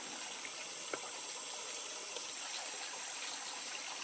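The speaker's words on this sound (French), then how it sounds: "Et puis la fameuse crique principale qui coule ici." A main creek in a quartz-bearing area flows with a soft, steady wash of trickling water, even and fairly faint throughout with no voices.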